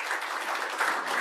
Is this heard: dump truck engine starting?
no